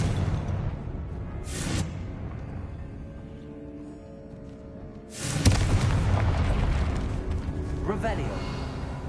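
In Hogwarts Legacy, a Confringo fire spell goes off as two deep booming blasts, one short and an larger rumbling explosion that lingers, with a spoken incantation alongside.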